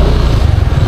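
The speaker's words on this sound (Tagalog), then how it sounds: "Maingay yung motor natin." A noisy motorcycle engine runs loud and close in a steady, rough mid-range drone with slight pulsing, heard alone for under a second during a town tour in Dumingag, Zamboanga del Sur.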